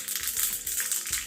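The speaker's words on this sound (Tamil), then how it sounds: "2 மிளகா வத்தல் போடுறேன்." Two dried red chilies dropped into a pan of hot oil for tempering rasam, giving a close, steady sizzle with a couple of brief clinks as they land.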